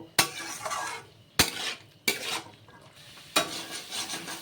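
Spices frying with boiled yellow peas for ghugni: four sharp spatula knocks against the pan, each followed by a fading sizzle, with gaps between strokes.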